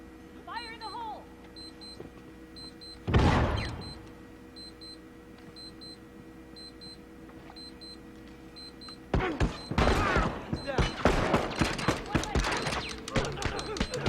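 In a video game, a heavy grenade explosion booms out over a repeating electronic beep, then after a lull a sustained burst of rapid, loud gunfire crackles with many overlapping shots.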